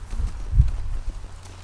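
Horse hooves clip-clopping in The Last of Us Part II, a few soft low thuds with one firmer step near the middle over a dull game ambience.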